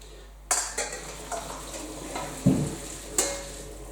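Parboiled potatoes being drained in a pot, heard as a few scattered clatters and knocks of metal with a brief watery splash in the middle, fairly quiet and close with no talking.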